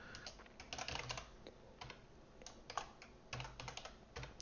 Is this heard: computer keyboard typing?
yes